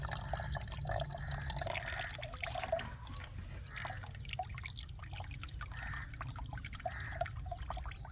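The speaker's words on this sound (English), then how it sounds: "Carefully pour this liquid into a jar or bottle" Concentrated homemade weed tea fertilizer trickling and dripping into a jar, a continuous faint splashing pour with small gurgles, heard alone without speech.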